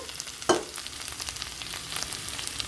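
Fried potatoes and plantain sizzling in a pan of spices for a curry, with a steady frying hiss and a brief scrape of stirring near the start, no voices.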